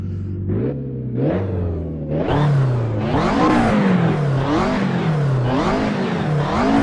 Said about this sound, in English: Engine sound is more aggressive